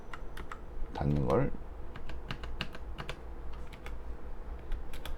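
Computer keyboard keys clicking in a quiet room, a scattered run of light taps including an Enter press, with a brief stretch of talk near the start.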